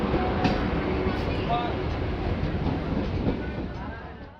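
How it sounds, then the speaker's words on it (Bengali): A MEMU passenger train on the Azimganj–Rampurhat line pulls into a station platform at night, a loud, continuous rolling rumble of wheels and carriages that fades slightly at the end. "ভর সন্ধেবেলা হেডলাইট জ্বালিয়ে ট্রেন প্ল্যাটফর্মে এসে পৌঁছালো"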